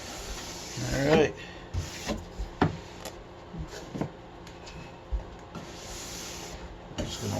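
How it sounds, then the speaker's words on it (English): Coarse brush run over the base of a freshly waxed ski, a few short scratchy rasping strokes, one louder sweep early then lighter intermittent brushes, close up in a quiet workshop. "I'm just going to lightly run"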